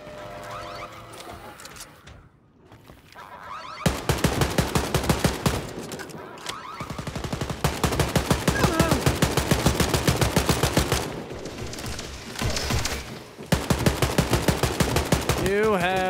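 Rapid automatic gunfire in Wolfenstein: Youngblood, long loud rattling bursts broken by short gaps, with metallic effects and a rising whine near the end.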